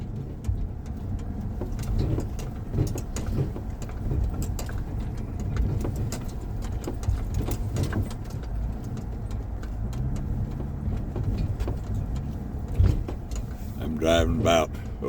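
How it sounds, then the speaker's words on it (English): A car creeps at walking pace along a rutted, rocky dirt road, its low engine rumble steady under a man's speech, with intermittent knocks and rattles from the bumps and a bird calling near the end. "I'm driving about 1 to 2 miles an hour, weaving back and forth across the road"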